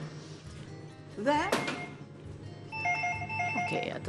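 A telephone rings with an incoming call in a TV studio during a morning show, sounding twice in short electronic bursts under studio talk and a few handling thunks.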